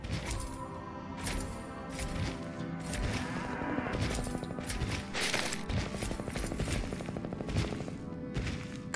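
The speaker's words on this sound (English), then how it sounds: "Gunshots." Gunfire from a firefight in the video game Fallout 3, several sharp cracking shots scattered across the clip over a steady game music and ambience bed, moderately distant rather than close.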